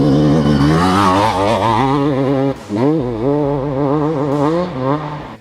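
A motorcycle accelerates out of a slippery corner, its loud engine note rising and wavering steadily through the clip with a short dip midway.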